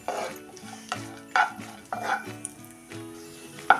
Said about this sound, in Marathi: बघा, आता हे ड्रायफ्रूट्स कसे आपले छान परतून झालेत।